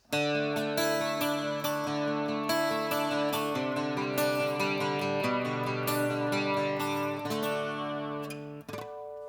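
A carbon fiber guitar strums chords with a shimmering, swirling built-in HyVibe chorus effect, steady and full for several seconds before the final chord rings out.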